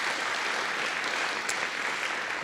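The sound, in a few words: applause from ceremony audience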